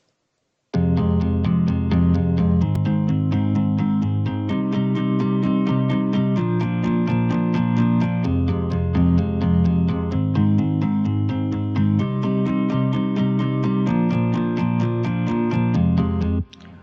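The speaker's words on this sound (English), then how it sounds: "Then there's a guitar break that I've used" A sampled electric guitar break from the Electric Sunburst library for progressive house, a dense, steady strummed pattern held at even loudness for about sixteen seconds, with no talking.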